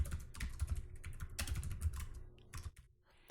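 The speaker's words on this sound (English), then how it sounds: "Let me write a little bit of code here." Rapid, uneven keystrokes clatter on a computer keyboard as code is typed, close and clear, with short pauses between bursts and no talking.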